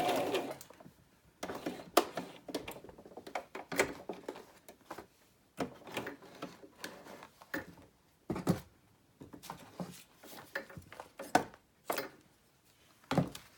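A home sewing machine stitches a handbag purse journal in a craft setting, its motor whirring in short bursts separated by pauses, fairly close and fairly quiet.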